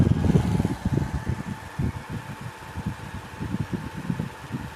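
A Sang 12-inch box fan with a rotating grille runs on medium at 1200 RPM, giving a close, soft whooshing hum with a gentle rhythmic flutter from the turning grille.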